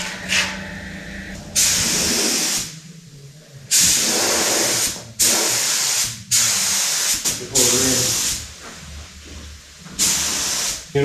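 Spray gun laying paint coats on a Massey Ferguson 1200 tractor cab: repeated loud hissing spray bursts of one to two seconds each, separated by brief pauses, close by with some background noise.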